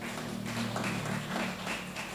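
A church congregation at a worship service applauds in sustained, dense clapping that lasts throughout, with a low musical hum underneath.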